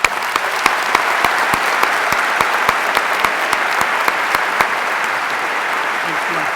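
Sustained audience applause at a 2016 Tepper graduation ceremony welcomes honorary doctorate recipient Jim Swartz to the stage, a loud, steady wash of many hands clapping that continues evenly throughout.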